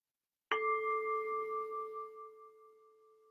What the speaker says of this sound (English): I'm listening for the sound of the bell.